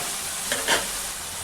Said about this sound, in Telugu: ఉప్పు వేసుకుని ఇలా బాగా కలుపుకోవాలండి